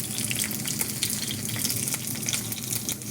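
Onion rings bubble and crackle in hot oil with a steady, dense sizzle that runs without a break, close by and with no voices.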